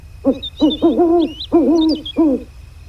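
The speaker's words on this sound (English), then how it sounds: "Let's do a owl hoot." Owl hoot call in the hunting video game Turkey Hunting Unlimited, a loud, close series of about five rhythmic hooting notes over quiet outdoor ambience with faint higher bird chirps.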